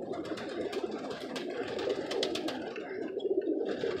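Pigeons or doves feeding on scattered seasoning outdoors, soft cooing and rustling with bursts of wing flapping, a steady busy murmur of birds nearby.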